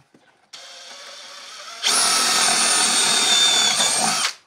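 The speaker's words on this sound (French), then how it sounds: "Donc tu prends ta visseuse avec ton forêt." A cordless drill driver bores holes for a drawer handle: a quiet motor whir starts, then a louder, steady high whine as the bit bites into the drawer front for a few seconds before stopping abruptly, close up.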